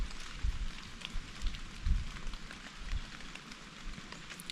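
Rain falls steadily outdoors during a November deer hunt in Ohio, a soft continuous patter on surfaces with occasional louder drops and no talk.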